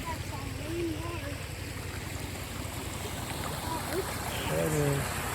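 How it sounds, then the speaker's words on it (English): Rainwater floodwater from a heavy thunderstorm rushing like a small river near a flooded spillway and levee, a steady broad wash of flowing water with faint voices in the background. "A lot of little river down through there."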